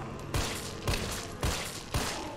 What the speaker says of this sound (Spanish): vamos a usar pistola para este zombie de aquí